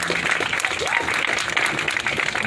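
An audience at a protest rally against police brutality claps in a dense, steady burst of applause, with a voice calling out over it.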